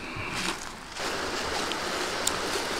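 Rushing stream in Pisgah National Forest, a steady broadband wash of flowing water heard close and continuous, with no voices over it.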